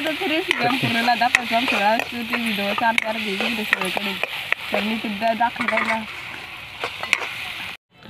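Brinjal frying in oil with onion and tomato, stirred in a pan with a bright crackling sizzle and spoon scrapes, while a voice speaks over it, ending in a sudden brief cutoff.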